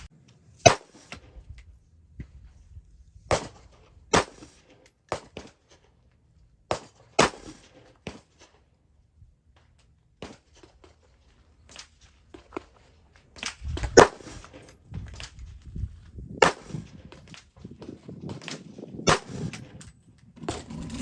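Sharp rifle shots at an outdoor range during 25-yard zeroing of an optic, about six sharp reports spaced several seconds apart, with quieter shuffling and handling sounds between them.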